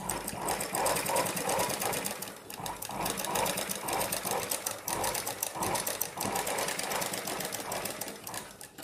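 A sewing machine stitching a blouse seam whirs in a steady, rapid mechanical rhythm throughout, loud and close, with brief slowdowns between runs.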